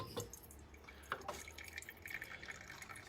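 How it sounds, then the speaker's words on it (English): Rinse water is dumped from a small coffee vessel outdoors, a brief splash followed by quiet dripping and trickling, soft and close, with no talking. "I've rinsed my my little vessel there and dump out the rinse water."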